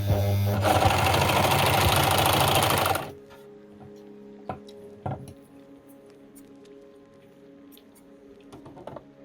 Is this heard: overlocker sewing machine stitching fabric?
yes